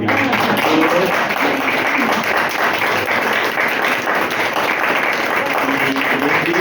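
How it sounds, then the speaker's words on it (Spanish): Sustained applause fills a parish talk-and-debate event as the audience claps loudly and steadily, a dense continuous wash of hand claps without letup. "con un fuerte aplauso"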